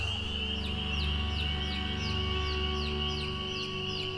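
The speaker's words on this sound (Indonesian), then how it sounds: "Dan tidak pedulikan suara anak ayam itu." Chicks cheep on a mountain hiking trail near a tent, a steady run of short, high peeps repeating every half second or so over a constant low drone.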